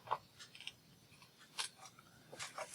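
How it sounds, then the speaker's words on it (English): Scissors trimming small pieces off both ends of craft paper, a few crisp, faint snips spaced irregularly in a quiet room. "it looks like I'm going to trim just a smidge off either end"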